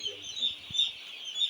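Broiler chickens crowded in a farm shed keep up a steady, high-pitched chorus of peeping calls, dense and continuous throughout with no pauses and no talking.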